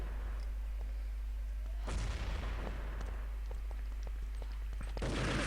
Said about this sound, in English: So I'm picking off Akron with a nice nade over the building.